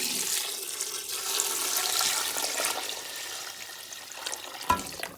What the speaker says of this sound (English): So I'm gonna go in with my warm water.